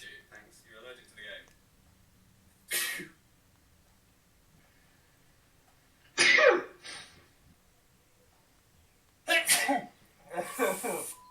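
A person sneezes violently several times, each loud, sharp burst separated by pauses, with talking at the start.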